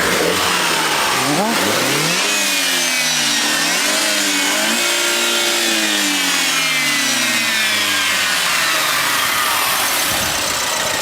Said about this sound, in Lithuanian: Taip dirba variklis.